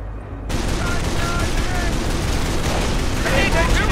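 Dense, continuous battlefield gunfire from the World War II Normandy strategy game Company of Heroes, with rapid bursts, distant booms and crackling shots throughout, while soldiers' voices call out over the din.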